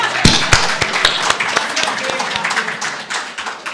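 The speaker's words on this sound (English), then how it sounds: "Can we give a round of applause for Student Affairs as they exit the House?" Applause from the audience at a student general council meeting as the Student Affairs delegation leaves the house: scattered, uneven hand claps with a few sharp, loud individual claps standing out over a murmuring room.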